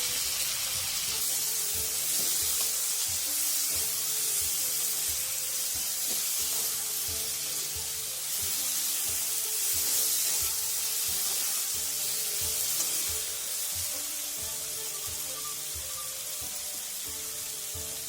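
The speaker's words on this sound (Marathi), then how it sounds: "आणि हे आपल्याला छानपैकी असं थोडंसं लालसर होईपर्यंत भाजून घ्यायचे." Small tomatoes fry in a pan for an eggplant curry, a steady loud sizzle running through the whole stretch with faint stirring scrapes and no voices.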